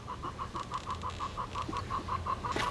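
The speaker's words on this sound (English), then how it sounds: "If you hear a sound in the background, dear friends, chicken making love." A chicken clucks in a steady, evenly spaced run of about fifteen short calls outdoors at a vineyard, fairly faint and set against a low background rumble.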